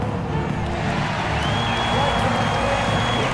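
An arena crowd in the NBA 2K26 basketball game cheers and claps in a continuous roar during a Brooklyn Nets vs Denver Nuggets match, while a public-address voice speaks over it.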